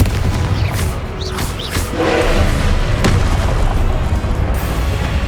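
Confringo fire-spell blasts in Hogwarts Legacy, loud deep booms and crashing bursts over a constant rumbling roar, with sharp impacts spaced through the battle.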